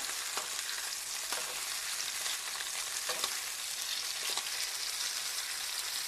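Beef fillets sizzling in a pan near the end of cooking, a steady dense frying hiss with a few sharper crackles and pops, no talking.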